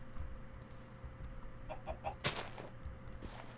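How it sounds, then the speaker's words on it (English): In a Minecraft game, a chicken gives a few faint clucks among quiet background noise, with soft keyboard clicks nearby. "Ooh, a chicken! A chicken!"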